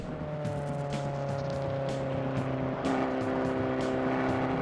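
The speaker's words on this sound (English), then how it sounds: "But now we're driving the Abarth 500." A Fiat Abarth 500 Cabriolet with a turbo engine drives along, giving a steady, moderately quiet engine hum with a clear tone that rises and shifts partway through, heard from inside the car with no voices.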